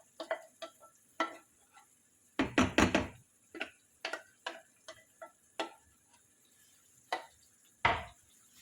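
A spoon or spatula stirs cooked paneer lababdar masala paste in a pan, making irregular close clicks, taps and scrapes with brief pauses and a louder clattering burst partway through.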